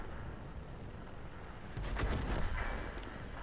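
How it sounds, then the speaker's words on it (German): Artillery gun firing in the World of Tanks video game, from a tier 5 AMX 13 105 AM mle. 50 tank: a steady rumbling background swells into a heavier low boom with crackle around the middle, then eases off. "Da kam die Granate wieder mal ein Stück zu spät"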